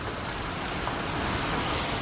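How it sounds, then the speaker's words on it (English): Heavy rain pouring during a thunderstorm, a dense, even hiss of drops on surfaces that holds steady throughout, loud and close, with no thunder or voices standing out. "Look at the rain."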